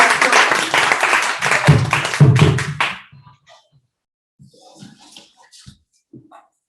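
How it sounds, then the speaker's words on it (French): An audience at a joint Toastmasters club session applauds with dense, loud clapping that lasts about three seconds before dying away into scattered faint sounds and quiet. "je demandais un tonnerre d'applaudissement."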